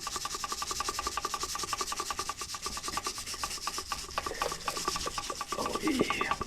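A Ford 8.8 axle part is rubbed by hand toward a smooth finish, making a fast, steady back-and-forth rasping scrape that runs nonstop at close range with no talking.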